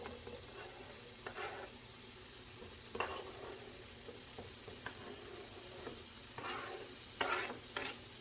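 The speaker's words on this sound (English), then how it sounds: "In the center of our pan, I'm going to add the onions and green peppers." Onions and green peppers cooking in the middle of a pan give a quiet, steady sizzle, with scattered soft scrapes and clicks from stirring; fairly faint, with no speech.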